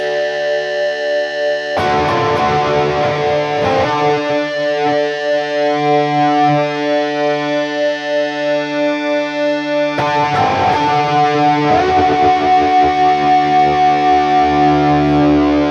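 Distorted electric guitar through a Boss feedbacker effect, drenched in reverb: long washing sustained chords, with two bursts of strummed playing that trail off into a lingering echoing tail.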